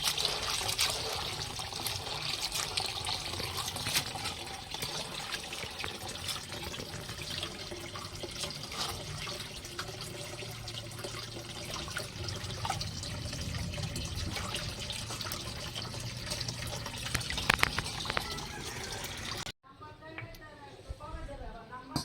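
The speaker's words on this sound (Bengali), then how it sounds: "বন্ধুরা এখন বাঁধাকপিগুলো ধুয়ে নিচ্ছি ভালো করে কষলে কষলে ধুয়ে নেবো" Cabbage is washed by hand under running tap water, a constant close splashing trickle with rubbing and rustling that fills most of the stretch before cutting off near the end, where a voice speaks briefly.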